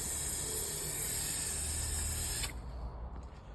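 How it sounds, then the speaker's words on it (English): Brake cleaner sprays in a steady, loud hiss onto an oily, greasy Toyota Hiace front wheel hub, stopping abruptly after a couple of seconds to leave quieter background noise. "give the thing a spray down with some brake cleaner to clean some of this oil and grease off"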